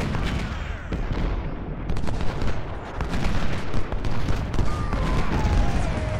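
Cannon and artillery fire thunders from a Civil War battle at Gettysburg in the video game Ultimate General: Civil War, a dense, continuous barrage of booms and crackling volleys throughout.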